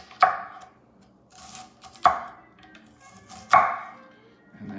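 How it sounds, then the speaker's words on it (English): A knife chops an onion into half slices on a cutting board, giving three sharp, separate thuds about two seconds apart, close and clear with no talking. "I just want to finish this 1 onion that I started cutting. I'm going to cut it in rings or slices,"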